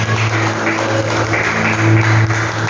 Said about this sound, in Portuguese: Vamos glorificar, aplaudindo ao Senhor bem alto.